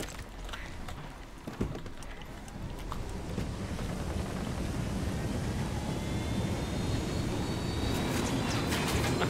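A helicopter in the video game Ghost Recon Wildlands, its rotor and engine drone rising from faint to a steady, dense rumble with thumping texture, heard alone.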